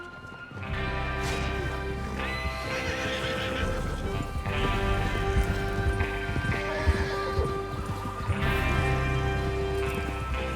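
Horses whinny and hooves clip-clop at a steady pace over a continuous outdoor rumble in the video game Red Dead Redemption 2, the riding sounds loud and close throughout.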